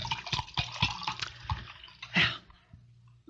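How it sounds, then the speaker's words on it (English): Liquid is poured into a small drinking glass in a studio setting, coming as short splashy bursts with a brief louder gush near the end, close and clear, with no talking. "Have to refill this little glass"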